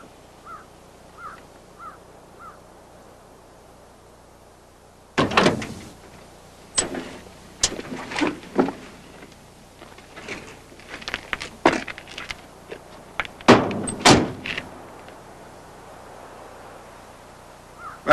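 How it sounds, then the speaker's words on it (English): Truck doors opening and closing in a daytime street arrest scene, several sharp, loud thuds and clunks after a quiet stretch with distant bird calls. "open a door and step out of the truck"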